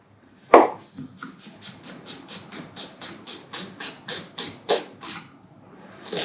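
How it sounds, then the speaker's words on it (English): Knife chopping onion slices on a cutting board for French onion soup: one sharp thud, then a quick, even run of about fifteen close, crisp chops before a short pause. "the onion slice is bigger than your spoon. So to avoid that, I cut it in half."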